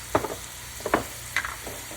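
Chicken tenderloins fry on low heat in a pan, giving a few short crackling bursts over a quiet, steady sizzle.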